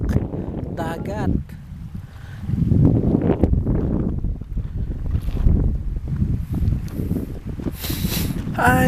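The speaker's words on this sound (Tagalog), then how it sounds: "Ay, ang sarap ng hangin" Cold wind buffets the microphone outdoors near the sea, a steady gusty rush rising and falling throughout, with a voice speaking over it.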